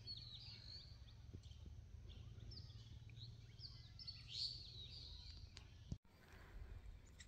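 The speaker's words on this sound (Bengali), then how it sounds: "আর আশেপাশে পাখির কিচিরমিচির আওয়াজ আসলে অনেক ভালো লাগছে।" Birds chirp among tea bushes on a cold morning in Panchagarh. Scattered high calls sound faint and somewhat distant over low rumbling background noise, with one sharp knock near the end.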